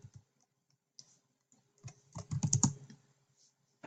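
Someone types a website name on a computer keyboard: a few scattered keystrokes, then a quick, close burst of clicking keys, followed by a couple of light taps.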